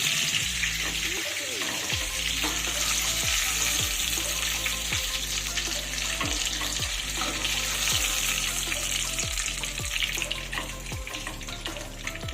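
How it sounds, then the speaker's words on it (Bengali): Ridge gourd pakoras fry in a wok of hot oil with a steady, loud hiss and bubbling throughout, while repeated scraping and clinking of a slotted spoon lifts the fritters out at a regular rhythm. "ঝিঙের বাকি পকোড়াগুলোও কিন্তু আমার একইভাবে ভেজে নেওয়া হয়ে গেছে এবার আমি এগুলোকেও তেল থেকে তুলে নিচ্ছি"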